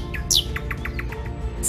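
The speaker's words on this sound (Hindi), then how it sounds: "रोशन सुबह की नवीद सुनाते ये चहचहाते परिंदे" Birds chirp on a bright morning in a quiet outdoor setting, a quick run of close, high tweets repeating in a steady stutter over a low background rumble.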